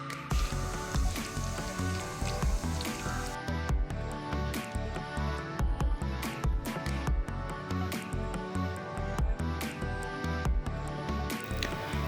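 Crushed garlic sizzles and spatters in hot oil in a pan, a continuous frying crackle broken by sharp pops and clinks, loud and close throughout.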